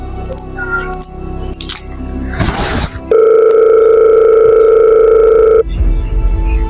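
Handling noises and a short rustle, then a steady electronic ringing tone from an outgoing phone call sounds continuously for a few seconds before stopping, followed by more clatter.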